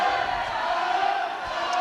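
Fans at an Asiago under-16 ice hockey semifinal against Forlì cheer and shout in a steady, dense crowd roar that fills the rink without a break.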